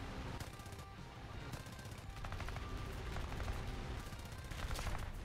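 Rapid bursts of aircraft machine gun fire in War Thunder, dense and continuous with short pauses between volleys over a low engine rumble, loud and close.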